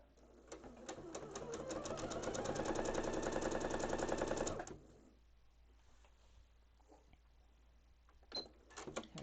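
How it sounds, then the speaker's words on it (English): Sewing machine stitching a quilt block, a fast even needle rhythm running steadily for several seconds and then stopping, followed by faint handling noises. "So as I'm sewing here"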